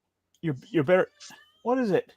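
A pet cat named Kitty, carrying her toy and seeking attention, gives a couple of short meows close by, mixed in with people talking.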